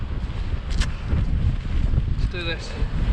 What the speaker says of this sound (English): Very windy as well.